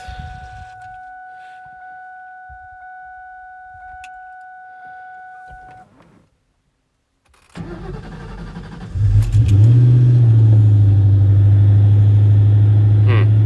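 A 2003 Terminator Cobra, freshly fitted with new spark plugs, cranks after a warning chime and a short silence, then catches into a loud, steady close idle with a deep rumble.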